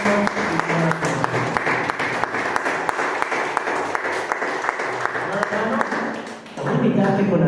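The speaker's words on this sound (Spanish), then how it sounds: "te damos honra con nuestras palmas" Church congregation clapping their hands in praise during a worship service, a steady dense clatter of many palms carried along with a voice speaking over it, briefly thinning before swelling again near the end.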